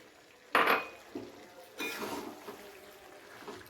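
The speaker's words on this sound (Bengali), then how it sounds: "ভেজে রাখা আলুগুলো দিয়ে দিলাম।" Fried potatoes tipped into a pan of steamed cauliflower land with a sharp clatter and shuffle, followed by a second softer scrape and rustle as they settle, close and fairly quiet with no talking.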